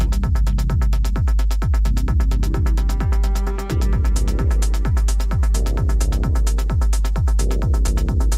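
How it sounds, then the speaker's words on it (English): Deep, booming kick drum thumps on a steady beat, about two per second, driving a loud music track layered with bright rhythmic textures above. "That's a nice big bass boom."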